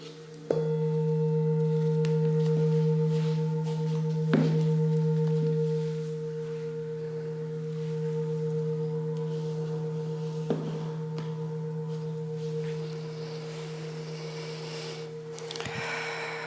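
A deep Tibetan singing bowl rings during a restorative yoga session, its steady sustained tone and overtones slowly fading over many seconds, with a few soft knocks and no talk.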